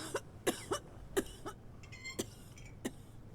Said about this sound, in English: The mysterious cough of death.